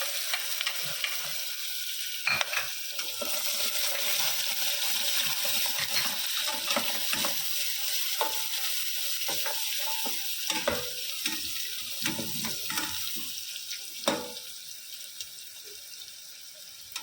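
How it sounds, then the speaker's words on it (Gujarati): Chopped onion frying with whole spices and a pinch of asafoetida in hot oil, a steady close sizzle with scattered stirring scrapes and clinks throughout, no voices. "હવે એમાં સમારેલી ડુંગળી નાખીશું."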